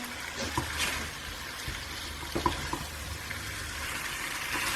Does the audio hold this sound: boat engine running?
no